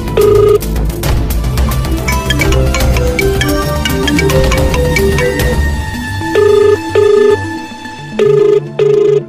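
A telephone rings on an outgoing call. The sound comes as repeated electronic ring tones over a busy background, with clear separate bursts toward the end.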